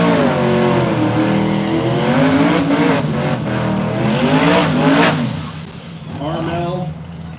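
An 1987 Ford Fox body drag car powered by an LS 5.3 V8 roars loudly at a no-prep drag race at KD Motorsports Park, engine revving hard and sustained, with an announcer talking over it.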